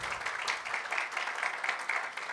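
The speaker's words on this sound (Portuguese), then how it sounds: "Palmas para a Manu, gente, por favor." Scattered audience clapping greets a speaker walking onto a conference stage, moderately loud with a loose, uneven rhythm of individual claps rising and falling.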